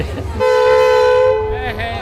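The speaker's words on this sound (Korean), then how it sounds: "기차가 출발을 알리고" A tourist train's horn gives one long, loud, steady blast to signal departure at a small village market stop along the Nakdong River, with a voice briefly audible beneath it.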